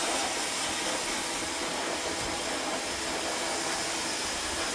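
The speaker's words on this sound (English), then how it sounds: "we're just going to dry a little bit of the sides and back so the clippers don't get stuck in the hair" A hair dryer blows steadily on a client's sides and back before clipping, a continuous close, even whooshing roar that holds for the whole stretch without a break.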